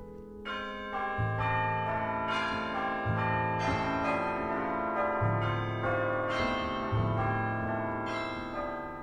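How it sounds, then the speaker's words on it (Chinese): A clock bell striking midnight, a steady series of deep, resonant strikes about a second apart, each ringing on into the next, with no voices. "这时候午夜十二点的钟声响了"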